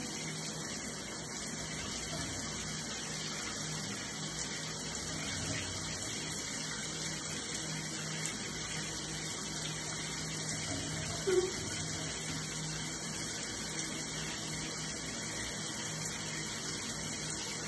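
Water pouring steadily from a tap or sprayer to wet curly 3C hair, a continuous even hiss running throughout at moderate level.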